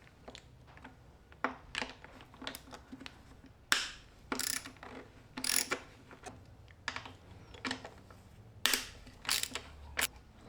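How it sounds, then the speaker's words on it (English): Quick, close ratchet clicks in short bursts, with sharp metallic taps between them, as 12 mm nuts are removed from the intake plenum of an RB26DETT engine, fairly quiet with gaps of near silence. "let's start by taking off all these 12 mil nuts around the intake plenum"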